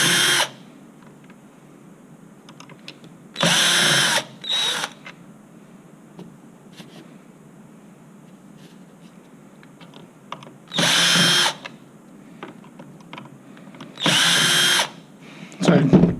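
A power screwdriver backs out the four screws holding a motor and gearbox for a zip handle replacement: five short whirring bursts separated by quiet pauses, close and fairly loud.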